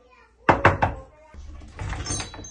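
Someone knocks on a door with three loud, sharp raps close by, followed by muffled thumps and voices.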